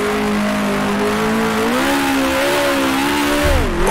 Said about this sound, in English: Over-revving a bit as I rise up the hill